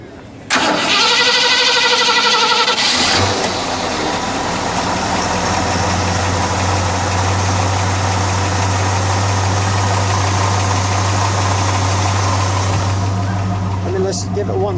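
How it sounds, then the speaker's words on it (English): A 1966 Ford Fairlane 500XL with a 289 engine cranks, catches and then settles into a loud, steady, rumbling idle close by, with voices talking over it. "All right, I like a little rumble to it."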